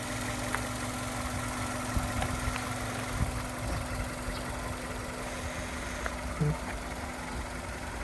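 A Hyundai Avante engine in sound condition idles steadily, a continuous low rumble with a constant hum and occasional faint knocks, close by and at moderate volume.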